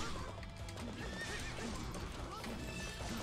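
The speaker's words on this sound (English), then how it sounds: "this is everyone's favorite horse companion for Link, Epona" Epona, Link's horse in Hyrule Warriors, whinnies loudly over steady clip-clopping hooves amid busy game sounds, all continuous and close throughout.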